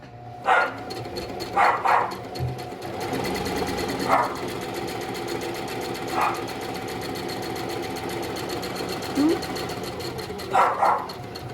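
A sewing machine runs along a kimono seam with a steady mechanical whir and needle chatter that carries through the whole stretch. Short bursts of other noise stand out over it here and there.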